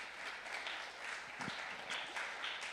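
Faint, steady applause from a church congregation, a soft wash of many hands clapping at a distance for a few seconds.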